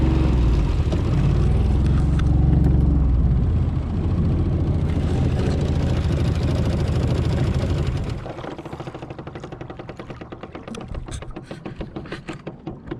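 An outboard motor on a 1971 Boston Whaler Sport, with the choke on, roars steadily and loudly, then drops into a rougher, uneven sputtering run with irregular pulses.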